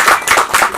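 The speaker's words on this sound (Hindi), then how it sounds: "मैं चाहूंगा आप सब फारूक सैयद जी के लिए दो जोरदार तालियां बजाइए।" Audience clapping at a film trailer launch for "7/11 Mumbai Train Blast": a short burst of brisk, loud, close applause with rapid claps in uneven pulses, no voices over it.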